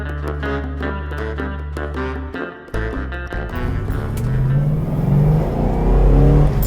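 A V8-powered Aston Martin DB5 hot rod revs hard, its engine climbing through several rising pulls and a gear change into a loud, close, sustained roar.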